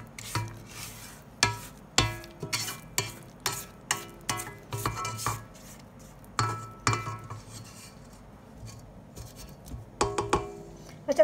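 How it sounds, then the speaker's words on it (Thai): Cookie batter for coffee cookies being scraped around a mixing bowl, a run of repeated clinking, scraping knocks of spatula on bowl in an irregular rhythm, close and fairly loud, with no talk. "จากนั้นเราปาดอ่างอีกครั้งหนึ่งนะคะ"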